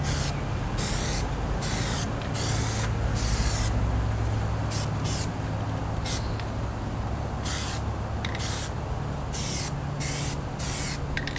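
Aerosol spray paint hissing as black coats go onto Toyota Tacoma badges, 3rd-gen truck: close, loud bursts of spraying repeated in quick succession with short gaps between, no talking.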